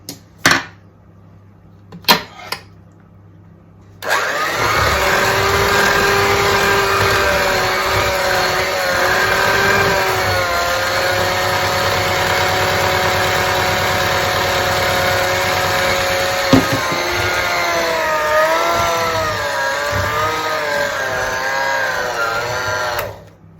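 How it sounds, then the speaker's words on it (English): An electric mixer beats egg mixture into banana muffin batter. After a few light knocks it starts up with a loud, steady whirring drone that runs continuously for nearly twenty seconds, wavering slightly in pitch. "I'm going to beat in the egg mixture"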